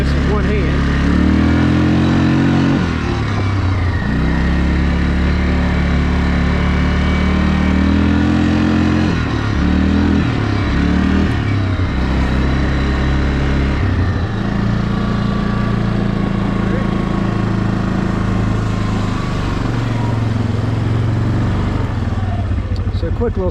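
A 2008 Yamaha Wolverine 350 ATV engine drones loud and continuous on a short ride, its pitch rising and falling with throttle changes, while someone talks over it.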